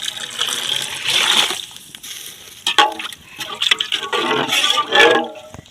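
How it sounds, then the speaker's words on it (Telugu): Water pours into a large pot of rice for a village-style biryani, a rushing, splashing stream with a few brief breaks and a loud final surge, heard at close range with no talking. "మనం కిలో రైస్కి మనం సరిపడు మోతాదులో వాటర్ అయితే పోసుకోవాలి"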